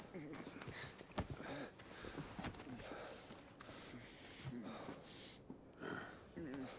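Labored, snorting breaths from a character in Final Fantasy XVI, rough and wheezy like a bulldog, rasping irregularly at close range amid other noise, with people talking over it.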